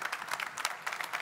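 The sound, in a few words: audience applause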